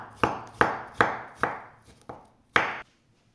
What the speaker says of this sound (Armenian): 4 մասի ենք բաժանում յուրաքանչյուր գազարը ու խորանարդիկների արագ կտրատում ենք